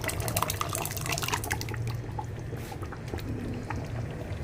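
Cooked dal poured into a pot of lauki chicken curry gives a steady wet, sloshing pour with drips, heard close and continuous over a low background hum, without speech.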